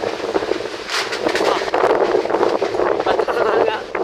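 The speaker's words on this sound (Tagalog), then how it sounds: "Lakas ng hangin guys." Strong wind roaring in a continuous loud broadband rush with gusting swells, close to the microphone and buffeting it, while someone talks over it throughout.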